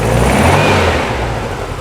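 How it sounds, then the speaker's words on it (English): A VW-powered Porsche 356 Speedster kit car engine revs up close and loud, a brief throaty surge that holds steady and then eases back slightly. "I'll give it the rev up and it should turn off"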